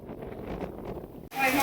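Strong storm wind gusting through Sarisiya village, a loud roaring rush against the microphone that dips briefly and then surges harder, with people talking underneath.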